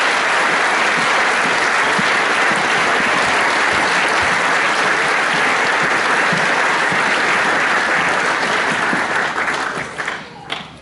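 Loud, continuous applause from a crowd at a Year 13 school graduation, cheering the graduating students; dense clapping holds steady for about ten seconds, then thins and tapers away near the end.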